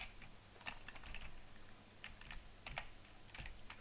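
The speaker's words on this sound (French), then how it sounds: "je tape mon mot de passe" Keystrokes on a computer keyboard as a password is typed into a virtual machine login, a quiet, irregular patter of soft clicks in short bursts with brief pauses, close and alone.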